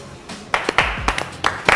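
Hands clap about five times in an uneven rhythm, close and fairly sharp, in a public setting with low background noise and faint voices.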